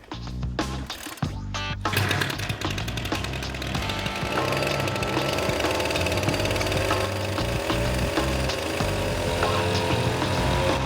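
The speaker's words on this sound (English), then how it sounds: "The new weed whacker's actually working fine. It's whacking away." A weed whacker motor spinning a fan propeller runs with a loud, steady buzzing drone after a brief burst of clattering at the start, holding an even, continuous whine throughout.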